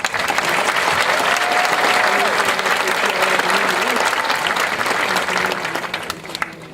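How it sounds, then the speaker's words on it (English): A large crowd gives sustained, loud applause at a high school class of 2019 graduation ceremony, a dense continuous wash of clapping that holds steady before tapering at the end. "Let's give them a round of applause"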